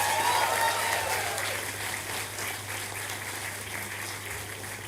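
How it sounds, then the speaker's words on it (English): A large audience at a university graduation ceremony claps in sustained, dense applause, loud at first and easing slightly while continuing steadily throughout. "May we have a huge round of applause for all the postgraduates and graduates of 2022."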